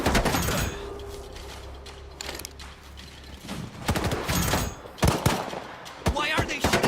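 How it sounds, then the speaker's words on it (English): Scattered gunfire aimed at players in a video game, sharp cracks arriving in irregular bursts amid mechanical clanks and game noise. "Why are they shooting at us?"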